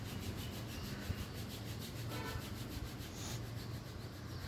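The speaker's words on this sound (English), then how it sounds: "Start rubbing your hands till you feel the heat." Two palms rubbed briskly together during a warm-up exercise, a steady, dry, whooshing friction that goes on without a break, close and soft, with no talking.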